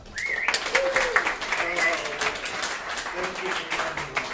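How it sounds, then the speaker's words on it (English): An awards ceremony audience applauding, a brisk spread of claps filling the room at moderate loudness, with a voice speaking briefly over the start. "Would you please give Christian once more a round of applause?"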